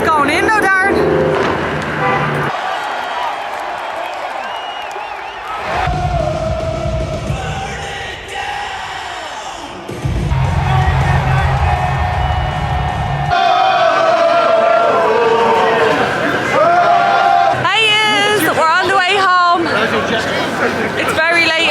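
Crowds heading into the Barclays Center for a WWE wrestling event in New York: steady outdoor chatter and traffic noise with passing cars and a horn toot, continuous and loud, while a person talks close by.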